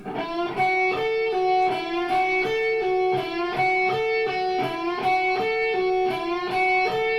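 A clean electric guitar plays a quick lead lick of evenly picked notes in a steady rhythm, clear and up close with no voices.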